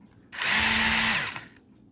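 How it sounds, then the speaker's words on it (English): An electric drill spins up and runs with a loud, steady whine for about a second, then slows and stops, close by. "turn on the drill to tighten it up."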